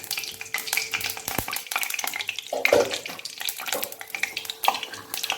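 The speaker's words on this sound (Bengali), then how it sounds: "তেল গরম হয়ে গেছে, তেজপাতা দিয়ে দিলাম, দারচিনি দিয়ে দিলাম, এলাচ দিয়ে দিলাম, লবঙ্গ দিলাম।" Bay leaf, cinnamon, cardamom and cloves fry in hot oil for a restaurant-style chicken and potato curry, crackling with a steady sizzle punctuated by spoon scrapes and clinks.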